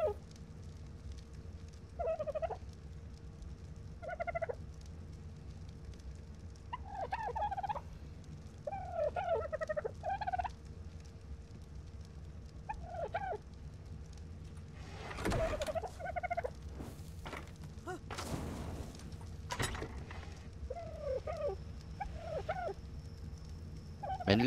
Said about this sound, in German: Männlicher Hespornis